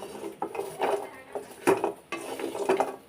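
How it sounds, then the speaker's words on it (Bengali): Cashew nuts dry-fry in a pot on the stove as a spoon stirs them over and over, making repeated close scraping and rattling strokes with a faint sizzle underneath. "আমি কীভাবে ভাজি করে নিতেছি এরকম বারে বারে নাড়াচাড়া করে তারপর ভাজি করে নিতে হবে"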